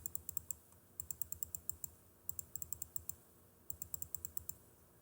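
A computer mouse is left-clicked in quick bursts of sharp, faint taps with short pauses between the groups, close and quiet with no talking.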